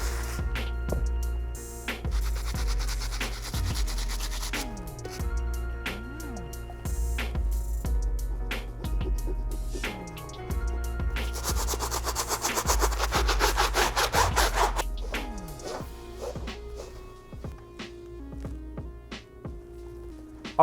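Stiff bristle brush scrubbing the rubber midsole and outsole of a Supreme x Nike SB Blazer Low sneaker, a steady close rasping rub in repeated strokes that grows denser and louder midway, with no talking.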